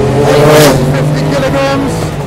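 A Porsche 962 Le Mans race car, 850 kilograms with about 650 horsepower, snarls loudly and close with a rising, harmonic engine note, under someone talking.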